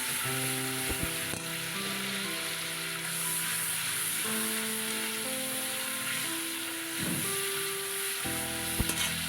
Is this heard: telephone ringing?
no